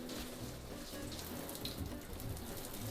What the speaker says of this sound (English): Okay, I'm gonna jump in the shower.